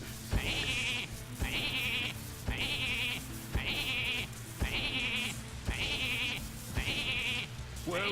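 Sheep in the Hearthstone card game bleat in a steady series of about seven loud, evenly spaced bleats, each a bright wavering cry over a constant low game hum.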